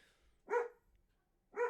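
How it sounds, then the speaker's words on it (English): A dog gives two short, separate barks, fairly close, with quiet pauses between them. "That's my dog."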